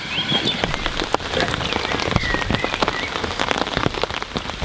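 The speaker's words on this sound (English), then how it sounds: "Right, the rain's well and truly sitting now." Heavy rain lashing down at a fishing lake in France, a loud, dense patter of drops striking close surfaces with uneven sharp splats throughout.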